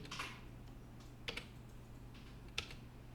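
Keyboard keys are pressed as shortcuts while editing in Premiere Pro, giving three quiet, close, crisp clicks spaced over a couple of seconds above a faint low hum, with no talk.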